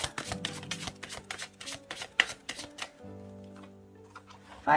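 Tarot cards being shuffled and dealt, a quick run of crisp riffling flicks and slaps for about three seconds, then a short quieter pause before one more card snaps down.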